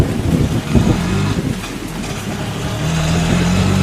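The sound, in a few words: heavy rain, audio drama effect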